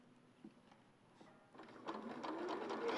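A sewing machine stitches straight across fabric, quiet at first, then speeding into a louder, rapid rattling run of stitches that builds toward the end.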